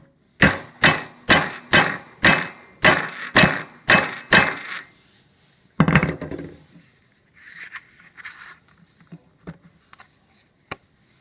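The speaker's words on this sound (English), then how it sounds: "Then you're going to take a hammer" Hammer strikes while assembling a base: about nine sharp, evenly spaced blows ring out close and loud, followed by a pause, one heavier knock and a few scattered lighter taps and clatters.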